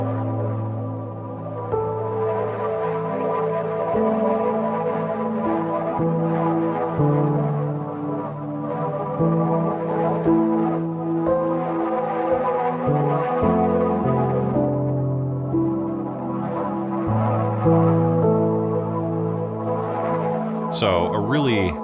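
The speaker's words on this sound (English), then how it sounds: "this is Piano Tech with a super soft cinematic sort of piano along with the Sunrise Delight pad" Soft cinematic piano layered over a warm sustained pad and run through a Reason quartet effect, playing a slow chordal passage alone for about twenty seconds with steady loudness and no voices.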